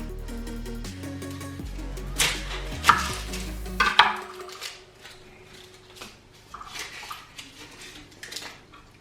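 A knife cuts an onion on a board in a home kitchen, a few sharp isolated chops with clattery impacts, close and fairly quiet, with no talking.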